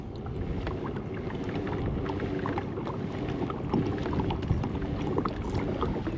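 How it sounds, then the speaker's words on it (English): A Moken 10 kayak paddled on open water gives steady sloshing and splashing from the paddle strokes, with a constant wind rush across the microphone throughout. "And we are paddling."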